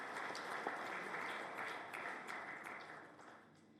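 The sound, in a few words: audience applause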